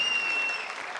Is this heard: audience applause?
yes